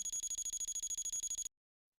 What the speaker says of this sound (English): Once the alarm rings, the MedELert will sound and the red light will flash for 30 minutes.